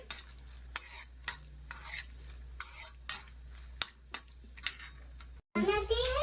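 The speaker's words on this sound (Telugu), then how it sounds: "ఇదిగోండి ఇప్పుడు బొంబాయి రవ్వ ఫ్రై చేసుకున్నానండి" Bombay rava (semolina) is dry-fried in a pan for payasam, with repeated sharp ladle scrapes and clicks in an irregular rhythm over a faint low sizzle, ending in a brief burst of other noise.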